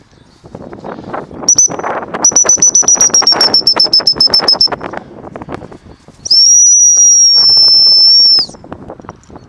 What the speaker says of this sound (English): That's the first ever time she's heard the whistle like that. And that will be, eventually, the stop whistle.